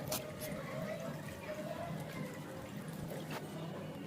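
Water is poured into a pot of Maggi noodles being cooked as soup, a steady soft trickle running for several seconds under background noise and occasional clatter.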